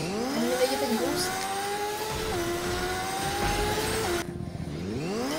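A motorcycle engine revving in Fortnite, its pitch repeatedly climbing and dropping in shifting whines as the throttle rises and eases, steady and fairly close with no talk.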